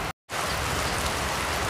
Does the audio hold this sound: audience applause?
no